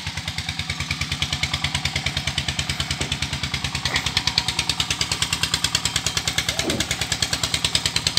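A modified four-stroke motorbike engine runs steadily near the listener, a fast, even throbbing putter with a rattly edge that holds constant throughout, with no talk.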